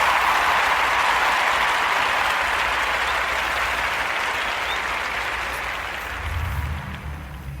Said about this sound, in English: Let's give him a round of applause, you guys.